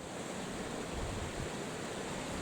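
A waterfall in Nidderdale in the Yorkshire Dales on a winter day gives a steady, even rush of falling water, faint and continuous with no voices.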